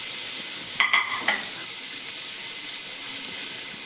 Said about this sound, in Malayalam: അതിലേക്ക് നമുക്ക് നമ്മുടെ ചീര ഇട്ട് കൊടുക്കുക.